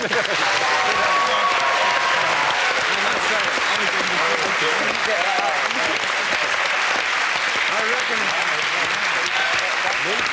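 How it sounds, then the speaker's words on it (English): A studio audience at a University Challenge pro-celebrity quiz broadcast claps loudly and steadily for the full stretch, a dense, continuous wash of applause with no break. "Applause for them. Give them a hand."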